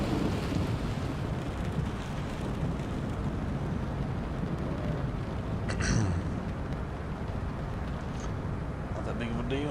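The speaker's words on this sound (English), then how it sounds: "And there's the rain." Heavy rain and rumbling thunderstorm wash over a cockpit in Flight Simulator 2024 on a Memphis to Dallas Fort Worth flight, a dense continuous roar with a sharper crack near the middle, and someone talks over it.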